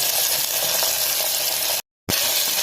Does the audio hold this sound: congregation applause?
no